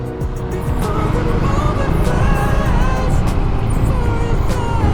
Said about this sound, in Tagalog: Ay, traffic.